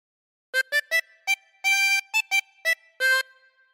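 A harmonica plays the first phrase of Oh Susanna as a short sequence of about ten clear blown and drawn notes, one slightly longer, heard alone and close.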